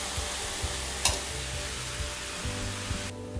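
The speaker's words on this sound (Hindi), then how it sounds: "नूडल्स डाल दिए हैं। अब इनको हम मिक्स कर लेंगे हल्का सा" Noodles are stirred in a hot frying pan for spring roll filling, giving a steady close sizzle with soft scraping and occasional light clanks.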